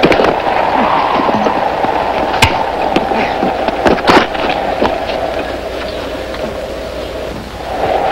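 Gunfire in a 1955 western film: a few sharp cracks stand out from a continuous, noisy battle wash of old soundtrack audio, loud and sustained.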